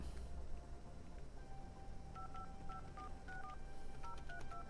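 An old telephone keypad beeps out a string of short dialing tones, quick evenly spaced DTMF beeps heard quietly over a low background hum with no talking.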